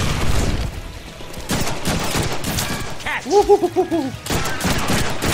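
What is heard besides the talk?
gunfire in the Deadpool video game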